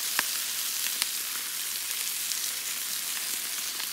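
Potatoes and steak sizzle in a skillet outdoors, a steady close crackling hiss with occasional louder pops and no talk.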